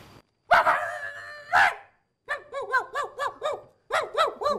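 A person imitates a dog barking in a comedy sketch: one long drawn-out howl-like bark, then a quick run of short yapping barks, loud and close, with no talk.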